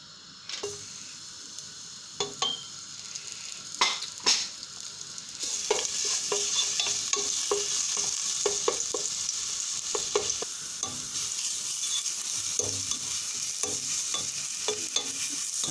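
Garlic paste sizzles in hot oil for Pakistani sarson ka saag as a utensil stirs the pan, with scattered scraping knocks first, then a steady loud fry under repeated stirring taps.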